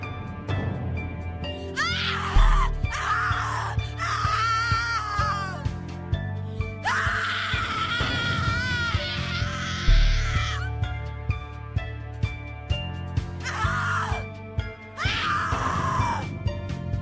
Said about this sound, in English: Your scream is like a poem without words.